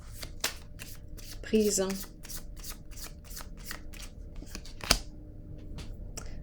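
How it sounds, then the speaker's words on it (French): Playing cards handled and laid down in a money-game setting, a few soft brisk flicks and shuffling taps close by, with a person speaking briefly over them. "Je vais déposer une autre carte."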